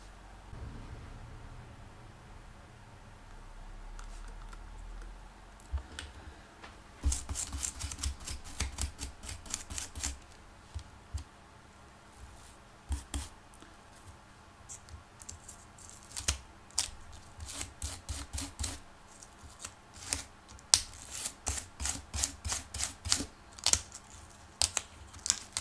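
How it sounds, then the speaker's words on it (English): Liquid-damaged laptop connectors being brushed clean with a small brush: rapid, scratchy bristle strokes that come in dense bursts of clicks and rasps, close up and fairly quiet, with no talking. "Just brushing things down. We're not scrubbing, we're just brushing."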